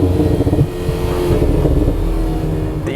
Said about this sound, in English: especially with that sports exhaust crackling and popping away behind you